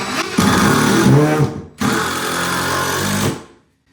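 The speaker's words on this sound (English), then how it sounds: "the first thing I'm doing is screwing my king and jack studs together in their proper alignment" Screws being driven by a power drill to join king and jack wall studs for a doorway in a mobile home remodel, two loud close whirring bursts separated by a short pause.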